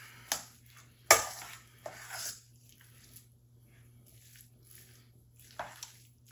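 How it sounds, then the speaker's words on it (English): Sour cream and pesto get stirred into cheese in a bowl, giving soft, intermittent squishing and scraping sounds with a few louder spoon knocks, faint and close. "we're just mixing that sour cream and pesto right into all of this cheese"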